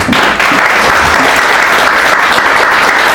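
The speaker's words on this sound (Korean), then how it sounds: "여러분들 박수 한번 보내주시지 않겠습니까?" An audience gives loud, sustained applause for two film directors at a public event, a dense, even wash of many hands clapping with no break.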